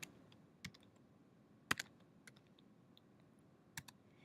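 A computer keyboard being typed on, a few sparse, crisp key clicks spread irregularly across a quiet, close background.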